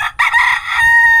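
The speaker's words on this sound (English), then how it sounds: "There's Oscar crowing in the other chicken run." A rooster crows in a farm chicken run, one loud, close crow with a long sustained final note, standing alone without talk.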